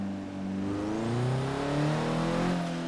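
Honda Civic Type R engine in the Forza Horizon 3 racing game, revving and pulling hard with a rising, turbocharged drone that climbs steadily through the gears, loud and close.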